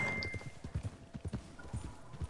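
Horse hooves clip-clop in a video game in a steady, quick rhythm, each hoofbeat a distinct knock, fairly close and quiet, with no talking.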